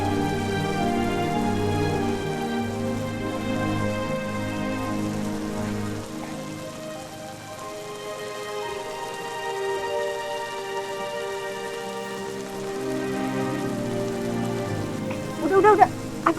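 Heavy rain pours steadily onto a surface throughout, a dense, continuous wash with a brief louder patter near the end, while background music plays under it.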